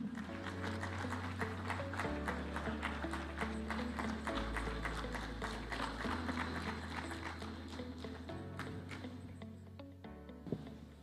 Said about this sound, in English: Let's welcome His Excellency with a hand clap